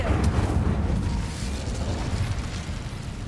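A sustained roaring whoosh of flame from an Incendio fire spell cast in the game Hogwarts Legacy, loud and continuous with no voice.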